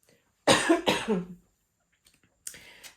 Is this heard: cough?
yes